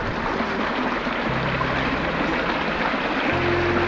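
Steady broadband rushing of flowing water from a nearby mountain creek on Crooked Creek Trail, continuous and fairly loud with no voices.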